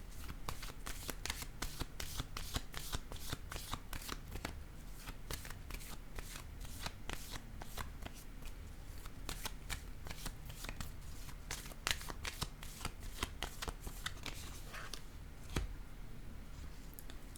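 Tarot cards being shuffled and drawn by hand for a reading, a long run of dense, rapid riffling flicks and slaps, close and fairly quiet, with no talking.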